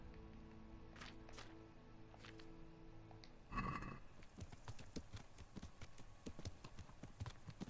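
The noble steed Pebbles trots along in Kingdom Come: Deliverance, a continuous patter of clip-clopping hoofbeats under a soft ambient bed, with a brief louder burst partway through.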